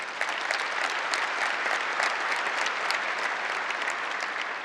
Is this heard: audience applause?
yes